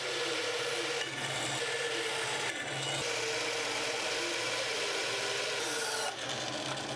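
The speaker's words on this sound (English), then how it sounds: "I'm just gonna hand sand the rest of this, reapply finish" Hand sanding on a homemade wooden tie cut from scrap wood: a steady, continuous raspy rubbing close by, with brief pauses and shifts in stroke, no voices.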